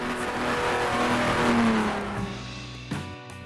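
A pack of 1960s Formula 1 race cars at the Italian Grand Prix in Grand Prix Legends, engines wailing loudly as they rush past close by, the roar sliding down in pitch and fading away.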